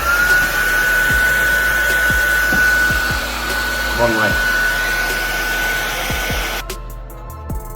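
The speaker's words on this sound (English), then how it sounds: "I got all the water out using the blow dryer" A blow dryer whirs steadily and loudly up close while drying condensation out of a Tesla Model 3 tail light, with a brief spoken remark and a few clicks and bumps near the end.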